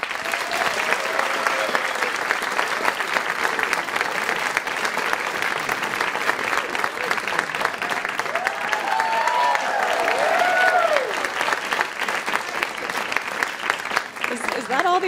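A studio audience at a food game show applauds as Cecilia Phillips is welcomed to the stage: steady, dense clapping that holds for about fifteen seconds with a few faint voices mixed in.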